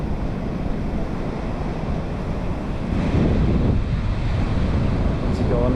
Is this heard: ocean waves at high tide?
yes